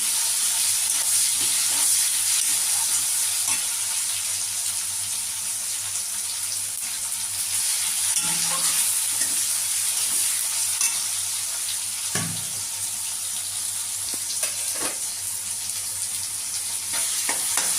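Chopped tomatoes with onions frying and stirred in a pan, a constant bright sizzle with occasional soft scrapes and knocks of a utensil, close and steady for the whole stretch without voices.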